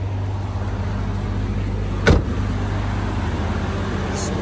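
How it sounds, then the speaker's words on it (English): A car engine idles steadily at a raised speed just after starting, heard up close at a salvage auto auction, with a brief sharp knock partway through. "RPM is kind of high, might go down though, because it just woke up"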